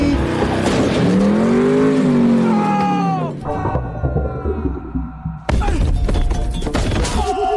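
A car in an action film swerves and plunges into a ravine: a loud rising-then-falling tire squeal and engine whine, a brief drop to near silence, then a sudden loud crashing impact and rumbling debris.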